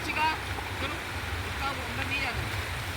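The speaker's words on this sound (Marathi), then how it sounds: "इथं तुम्ही बघू शकता किती छान वाटतं लाटांचा आवाज वगैरे" Waves wash in and out on a beach under gusting wind, a soft continuous surf with faint voices in the background.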